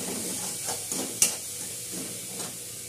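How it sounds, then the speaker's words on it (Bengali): Spice paste with turmeric fries in a pan with a steady hiss and sizzle, broken by a few soft stirring scrapes and one sharper clink of the utensil. "5 মিনিট আমি পাকিয়ে নেবো মশলাটা।"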